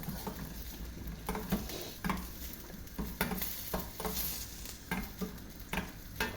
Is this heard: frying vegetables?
yes